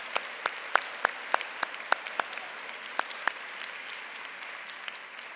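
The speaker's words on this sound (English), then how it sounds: "join me in a round of applause to thank your family and friends for being here today" Commencement audience at a law school graduation applauding families and friends, a steady broad clapping wash with distinct sharp individual claps punctuating it at a regular pace, moderately distant in a large hall.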